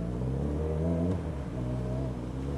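A Suzuki GSX650F inline-four motorcycle fitted with an aftermarket exhaust, holding a steady, throaty engine drone with a slight swell in revs, close and loud throughout with no speech.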